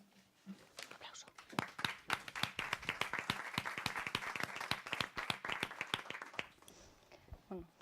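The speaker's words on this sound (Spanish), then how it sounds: "Aplauso." An audience at a round-table discussion claps steadily for several seconds, crisp individual claps close by over a soft murmur, building then thinning out near the end.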